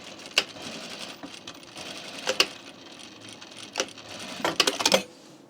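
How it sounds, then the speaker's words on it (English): A sewing machine runs a 1/2 inch seam on a jean jacket in short, quiet bursts of stitching, broken by sharp clicks and taps of the presser foot and fabric handling, with no talk. "We're going to sew it on with a 1/2 inch seam."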